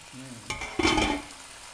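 Stock is poured into a hot wok of asparagus and shrimp, a sudden loud rushing sizzle that swells and fades over about a second, following a brief utensil clink and a faint low hum, close up.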